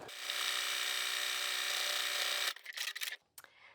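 A sewing machine runs a zigzag stitch across fabric strips for a heat-safe trivet, giving a steady, fast mechanical whir for a couple of seconds, then stopping into a few short bursts and clicks.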